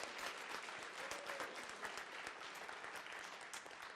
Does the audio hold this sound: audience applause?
yes